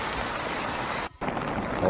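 Floodwater rushes over a stream culvert in a rural village after heavy rain, a loud, continuous broadband roar that cuts out for a split second before surging back.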